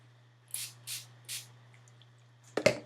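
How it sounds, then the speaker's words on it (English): Three short, hissing spritzes of Wet n Wild Photo Focus setting spray onto a makeup brush, evenly spaced and close, over a faint hum, followed by a brief clatter. "I am going to spray my brush with a little bit of this Wet n Wild Photo Focus Setting Spray"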